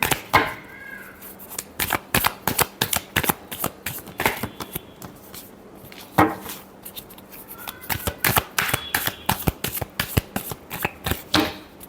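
Tarot cards are shuffled by hand in a long run of crisp riffling bursts and flicks, close and fairly loud, in an uneven rhythm with short pauses between bursts.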